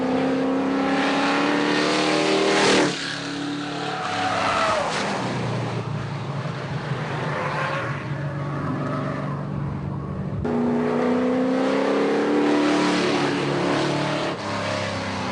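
A Subaru STi accelerating hard with the pedal floored, the engine note climbing loud and close through repeated gear pulls with a brief dip between them.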